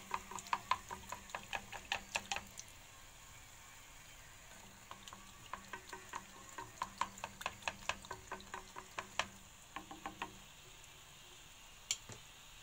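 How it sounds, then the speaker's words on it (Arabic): Griwech dough frying in hot oil in a pan, with bursts of crisp crackling and popping that come in clusters, pause briefly, then resume, fairly close and moderately quiet, with no talking. "ونكمل نقلي كاع القريوش ديالي"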